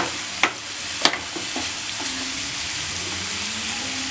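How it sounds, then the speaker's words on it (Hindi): Paneer and mixed vegetables stirred in a hot pan, a steady sizzle of frying with a few sharp spatula knocks against the pan near the start, close and continuous. "पनीर डालने के बाद थोड़ा सा मिक्स करेंगे सारी वेजीज और पनीर को अच्छे से।"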